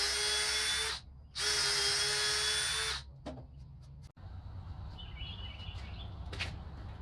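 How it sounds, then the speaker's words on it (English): A power drill bores into a wooden board near a knot, two loud sustained bursts of whirring followed by shorter trailing spins and quieter handling noise, with faint birdsong in the outdoor background. "There's a knot on this end right here where I'm drilling."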